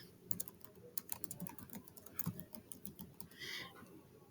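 Someone types a name on a computer keyboard, a quick, faint patter of clicking keys with a soft, close, irregular rhythm.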